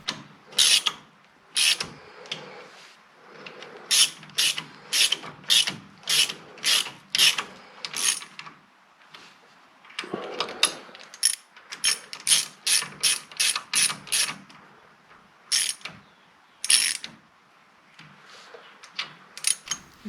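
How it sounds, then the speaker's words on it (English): A socket ratchet tightens the wheel hub nuts on a 1986 Ford Ranger 4x4 diesel, giving close, crisp bursts of rapid clicking that repeat in short strokes with brief pauses between them. "Evenly tighten the 5 nuts in a star pattern."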